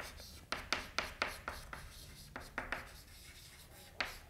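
Pen or chalk writing in a classroom lesson: a series of quick, sharp scratchy strokes in bursts, close and fairly quiet, with pauses between them.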